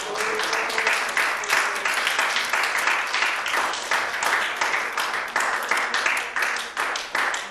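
A church congregation at a revival service claps hands together, loud and fairly rhythmic with repeated strong beats, with some voices mixed in.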